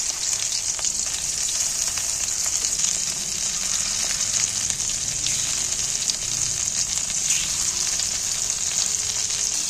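Fish roe frying in hot oil, a steady dense sizzle with continuous bright crackle, close and fairly loud throughout, no talking.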